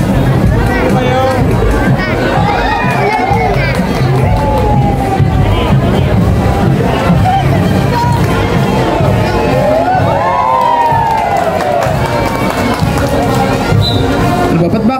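A crowd shouting and cheering during a town fiesta parade with a marching band association in Tanza, Cavite, loud continuous babble and whoops, close and sustained throughout, with people talking nearby.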